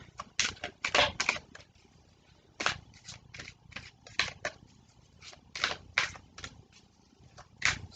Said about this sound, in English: I'm being guided to pull a more specific card.